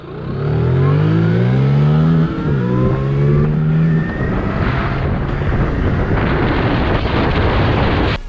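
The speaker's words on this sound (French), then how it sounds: "elle a une meilleure accélération même face à la plupart des motos thermiques 125" Horwin CR6 Pro electric motorcycle racing a 125cc petrol motorcycle from a standing start, a loud sustained engine whine rising and shifting pitch, with strong wind noise throughout and no talk.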